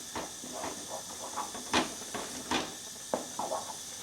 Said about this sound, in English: Just starting to come on the boil there now.